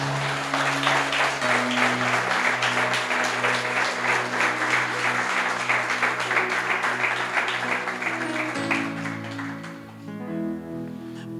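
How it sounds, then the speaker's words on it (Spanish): A church congregation applauds in sustained, dense clapping over a steady organ or keyboard chord backing that shifts notes as it plays, the clapping thinning out near the end. "Dale un aplauso al Señor."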